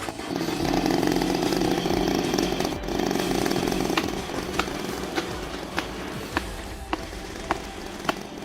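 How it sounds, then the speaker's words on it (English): Chainsaw cutting into an old fallen tree stump, a loud sustained motor whine that drops to a rougher idle, then a run of sharp regular clicks or knocks near the end. "The chainsaw, a sharp envoy carved through the tension, each cut echoing with purpose and precision."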